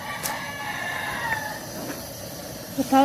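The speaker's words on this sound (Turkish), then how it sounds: "Bu horozun sana gıcıklığı var. Sen konuştuğunda ötüyor." A rooster crows at a distance toward the end, a short loud call rising over a quiet, busy indoor background.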